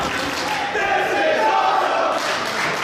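A wrestling arena crowd roars and cheers loudly and continuously during a tense match, with a dense wash of voices filling the space.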